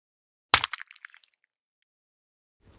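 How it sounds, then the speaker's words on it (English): A single egg cracks sharply up close against a quiet kitchen, followed by a quick patter of dripping as the contents spill out, then silence. "And then I went on to crack my 2 eggs"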